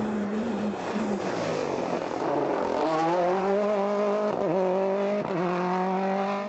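A Mini WRC rally car races on a stage of the 2012 Galway International Rally, its engine revving hard and climbing through the gears with sharp pitch shifts and brief lifts, loud and close throughout.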